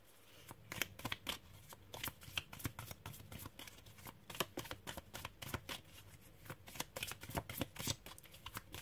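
Tarot cards shuffled by hand in steady, rapid riffles and slaps, close and fairly quiet, with no talking over it.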